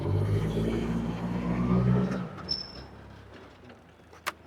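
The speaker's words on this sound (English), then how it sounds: "We're going to do a brake test going forwards." A Hyster H50FT 5,000 lb propane forklift rolls forward with a steady engine drone, then brakes and slows to a stop, leaving quieter idle and a couple of sharp clicks.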